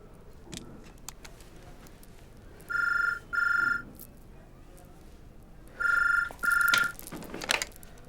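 A telephone rings in two paired bursts of electronic trilling with a pause between them, heard indoors over a low background hiss, with a faint rustle near the end.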